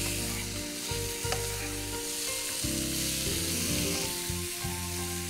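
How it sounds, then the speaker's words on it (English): Potatoes roasting in a hot pan, a dense continuous sizzle with stirring scrapes and low tonal hum underneath, steady and close with no talking. "I'm just actually roasting the potatoes to give it a more flavor"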